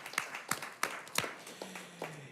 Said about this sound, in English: let's give that a nice little round of applause